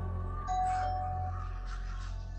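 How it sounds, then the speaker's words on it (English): A doorbell rings with a brief two-tone chime, faint and close, over a steady low background hum. "Somebody rang the doorbell"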